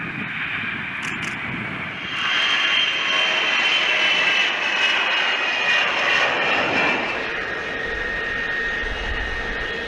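Jet engines of a Boeing E-3 AWACS, a modified Boeing 707 airborne command post, make a loud, steady roar with a rushing whine that swells and holds for about ten seconds, with no voices.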